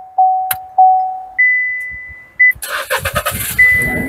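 An auctioned car in a São Paulo auction yard gives a few loud electronic beep tones, then its engine cranks and catches with a rough, pulsing idle close by.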